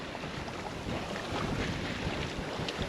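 A sailboat moving through open ocean on the passage to Nuku Hiva, making close to six knots, with a continuous low wash of water and steady wind rumble across the microphone, fairly quiet and unbroken.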